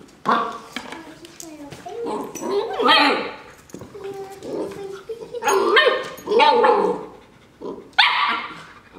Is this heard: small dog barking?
yes